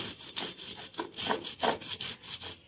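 Soaked chana dal is ground by hand with a quick, even series of rough scraping strokes, about eight of them, faint but close.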